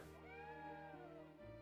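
A cat in the Triangle Strategy video game gives a short, clear meow up close, set over a quiet steady game music bed.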